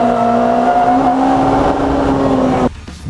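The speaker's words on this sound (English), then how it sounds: "Listen to the engine." A loud WTCC touring race car engine on the Goldenpark circuit in Beijing, with wheel spin, holding a high, steady drone, then abruptly dropping off near the end as the throttle lifts.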